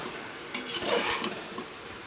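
Mint rice being mixed in a pressure cooker with a ladle: a short burst of scraping and soft metal clinks over a low background hiss, alone without voices.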